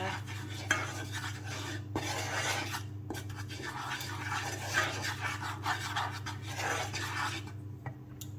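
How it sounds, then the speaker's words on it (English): Flour being stirred into a melted mixture in a pan, a soft continuous scraping and rubbing with a few sharper utensil clicks over a steady low hum, close up with no talk. "So once it's melted, I'm just going to add 2 tablespoons of flour. We'll do one at a time. Just give it a stir."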